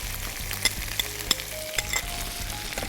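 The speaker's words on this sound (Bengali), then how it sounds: "ক্যাপসিকামগুলো দিয়ে দিচ্ছি।" Capsicum sizzles in a hot frying pan with ginger paste, a steady close crackle broken by occasional clinks and stirring sounds.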